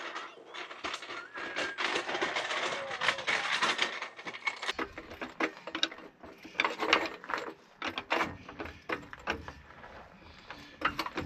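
A floor jack is pumped to lift an RV, giving rapid mechanical clicks and ratcheting clatter in uneven bursts, close and moderately loud, with no talking.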